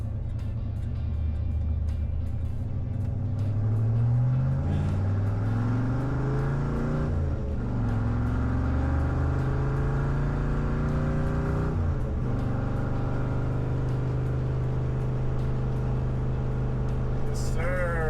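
A 1967 C2 Corvette's engine drones continuously while cruising, its pitch rising and falling through several shifts in revs, heard up close for a long stretch.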